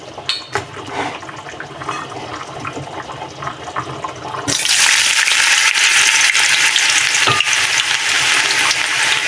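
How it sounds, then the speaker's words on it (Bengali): Cubed potatoes, carrots and peas hit hot oil and break into a loud, steady sizzle that holds continuously after some earlier clatter of preparation. "এগুলোকে আমি এখন ভেজে নেব। ভাজার জন্য এখানে দিয়ে দিয়েছি তেল।"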